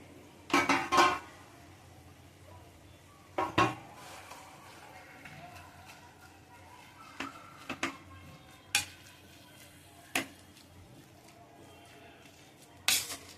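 Boiled, mashed raw banana stirred in a pan for pav bhaji, with a spoon giving sporadic clinks and scrapes against the metal, quiet and close, separated by soft pauses.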